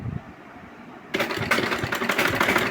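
A sewing machine stitches along a marked line on a hijab. It starts after a second of near quiet and then runs as a steady, close, rhythmic whirring.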